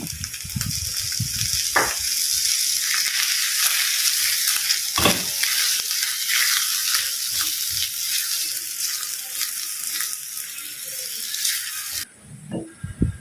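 An egg fries in a pan of sautéed rice with a continuous bright sizzle, broken by a few stirring scrapes and clunks before it drops away at the end.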